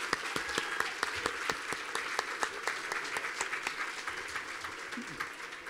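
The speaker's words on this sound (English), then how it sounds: "one more round of applause for Jesse," Applause from an audience at a hospice heroes awards event, a steady wash of many hands clapping with sharp individual claps standing out, sustained and fairly close throughout.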